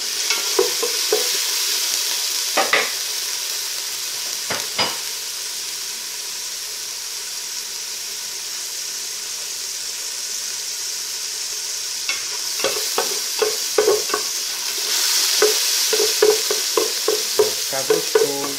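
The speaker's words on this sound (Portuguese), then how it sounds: "a gente tá colocando a linguiça para dar uma fritada nela também" Sausage frying in a pan, with a steady close sizzle and hiss that brightens near the end, broken by clusters of sharp scraping and tapping as it is stirred, no talk.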